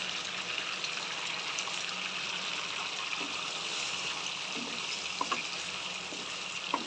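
Spices with dried chilli paste, salt and turmeric stirred in a hot pan for mustard hilsa, a steady sizzle of frying oil under occasional soft scrapes and clicks of a spatula, close by.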